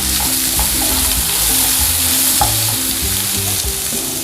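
Onions and green chilies fry in hot oil for a chicken samosa filling, a loud, constant close sizzle with occasional light stirring taps and no talk.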